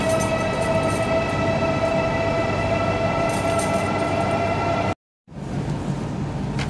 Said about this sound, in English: All the new bullet trains